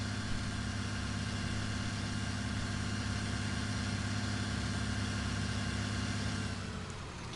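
A video game tractor engine pulls a heavy load in the farming game, a steady low, droning rumble with a constant hum that holds evenly for several seconds before easing slightly at the end, with no talk.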